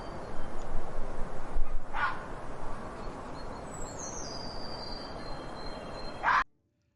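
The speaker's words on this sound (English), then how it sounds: "Please shut that dog up" A dog in the restaurant management game Taste of the Wind gives a couple of short, sharp barks over a low wind-like background, the last bark just before the sound cuts off.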